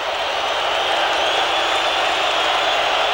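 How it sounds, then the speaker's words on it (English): Dense, steady roar of a large stadium crowd booing through a UNICEF charity football match between the Americas and the Rest of the World, loud and unbroken with no pauses. "a lot of boos from the crowd here"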